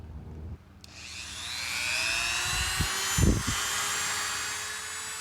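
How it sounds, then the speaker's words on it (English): A rotary tool fitted with a grinding stone, running at about half speed, sharpens a lawn mower blade held in a vise, giving a loud high-pitched whine that spins up and holds, with brief scraping bursts as the stone meets the steel. "I'm using the free stones that came with the rotary tool."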